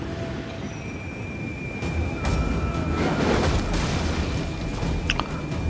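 Flaming shots fire in the Total War: Attila battle game as deep, rumbling booms swell over a low roar, with thin whistling tones and a sharp crackle near the end.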